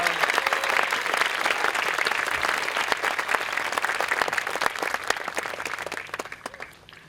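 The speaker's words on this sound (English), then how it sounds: "Let's everyone give one more round of applause to our salutatorians and our valedictorians." Audience applause at a school graduation ceremony, a dense, steady clapping from a large crowd that carries on throughout and thins slightly toward the end.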